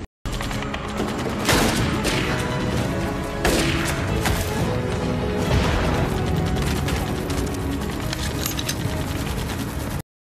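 Dense gunfire from a war film sniper battle, with rapid overlapping shots and bursts forming a loud, continuous barrage.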